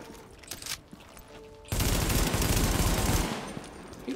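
A sustained burst of automatic gunfire in the video game Tom Clancy's The Division, dense and loud for about two seconds after quieter game ambience, then tapering off.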